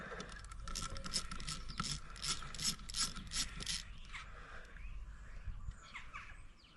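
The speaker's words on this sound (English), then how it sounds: "I'm going to crack these clutch bolts off" Ratchet wrench clicking in quick, regular strokes while loosening clutch bolts on a Yamaha TY80 trials bike under restoration, followed by quieter handling noise, with faint birdsong in the background.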